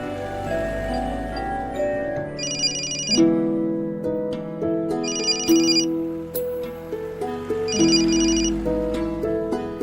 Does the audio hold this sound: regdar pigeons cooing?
no